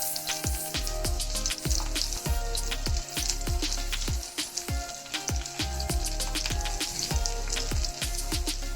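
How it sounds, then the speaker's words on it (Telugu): Onion pieces fry steadily in a hot pan with curry leaves, a dense continuous sizzle dotted with sharp crackles and pops, close and loud, with no voices. "ఉల్లిపాయ ముక్కలు వేసుకోండి. ఉల్లిపాయలు గోల్డెన్ బ్రౌన్ కలర్ వచ్చే వరకు వేపుకోవాలి."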